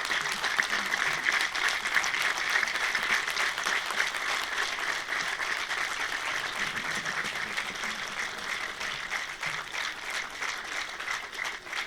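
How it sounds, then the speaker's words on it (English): Sustained applause from a large standing audience at a speech event, steady and even throughout, filling the room without a break. "I'll request this whole, the audience, to stand up and applaud for them"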